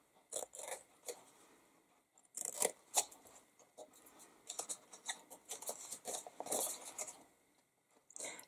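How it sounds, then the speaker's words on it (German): Scissors snipping card or paper while making a chocolate box package: scattered crisp cuts and rustles in short bursts with pauses, close and fairly quiet, without talk. "Und die schneiden wir ein bis zur kommenden Falz"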